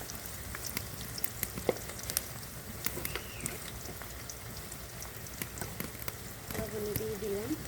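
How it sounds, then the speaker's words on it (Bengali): Onion fries in a pan with cardamom, cloves, cinnamon, chili and salt, giving a steady close sizzle dotted with sharp crackles and pops. A voice talks faintly near the end. "পেঁয়াজটা আমার ভাজা ভাজা হতে থাকে, এখন লাল লাল"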